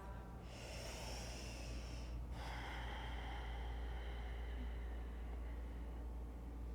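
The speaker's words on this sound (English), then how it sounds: "we're gonna keep our lips sealed as you slowly exhale out of the nose. Maybe tapping into your Ujjayi breath" A slow Ujjayi breath during yoga practice: a long, soft, hissing exhale through the nose with lips sealed, close to the ear, starting with a brief breath, then a drawn-out steady airflow that fades gradually.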